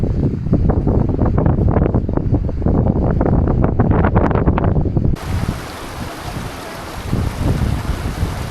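Strong mountain wind blusters over the microphone near a monastery in Nepal, loud buffeting gusts rising and falling, then a steadier hiss of blowing air toward the end.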